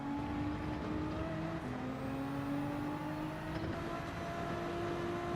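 Race cars at Suzuka in Gran Turismo 7 drone through the approach to Spoon Curve, steady engine tones shifting pitch with gear changes and throttle, continuous and fairly close without talk.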